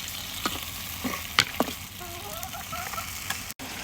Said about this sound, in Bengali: এখন আমি এগুলো হচ্ছে কষাবো মশলার সাথে